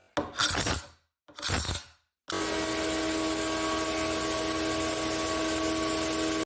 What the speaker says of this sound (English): I'm gonna clean up some of this dried squeeze out with a paint scraper